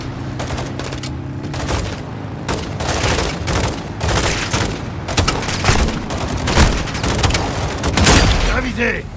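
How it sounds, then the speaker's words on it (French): Sustained automatic machine-gun fire in the Call of Duty Modern Warfare 2 campaign, dense rapid bursts mixed with booms and explosions, loud and continuous, with voices calling out orders over the battle. "Mitrailleuse, à droite! Neutralisez cette mitrailleuse."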